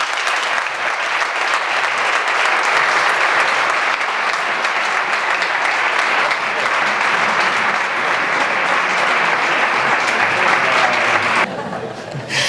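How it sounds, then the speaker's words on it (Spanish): Sustained applause from an audience at a Ciudadanos municipal election candidacy launch, greeting mayoral candidate Isabel Álvarez, steady and loud throughout before it cuts off abruptly near the end. "Un aplauso para ella."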